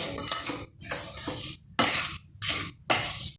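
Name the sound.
mixing cardamom powder into jaggery mixture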